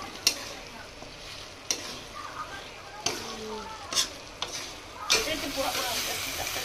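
Chicken feet stirred and fried in a pan while being cooked down for a curry, with a steady close sizzle and several sharp scraping stirs spaced through the clip.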